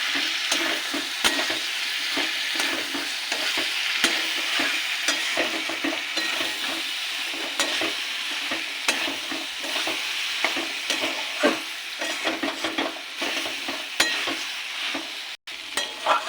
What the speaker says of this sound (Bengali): এবার দিয়ে দেবো টমেটো কুচি লঙ্কা আর পোস্ত বাটা ভালো করে মিশিয়ে নেবো